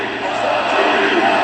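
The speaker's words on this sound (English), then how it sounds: "And the chants of Ovi" At an NHL hockey game between the Washington Capitals and Edmonton Oilers, an arena crowd on its feet chants "Ovi" for Ovechkin, a loud, massed roar of voices swelling steadily over a brief moment.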